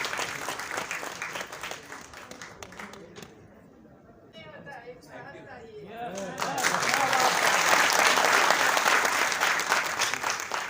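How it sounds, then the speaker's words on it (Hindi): Audience applause welcoming a speaker at a Rujhan Foundation event in Lucknow, dense clapping that dips briefly then swells louder and fuller toward the end, with faint voices mixed in. "तालियों की करता ध्वनि के बीच स्वागत करिए डॉक्टर सरोजनी अग्रवाल जी का।"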